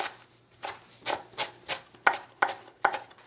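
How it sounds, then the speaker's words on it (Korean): A knife minces perilla leaves on a cutting board for gimbap, about eight distinct chopping strikes at a slow, steady rhythm, close up with no talking. "깻잎 10장은요 꼭지 이렇게 따시고요 다질 겁니다"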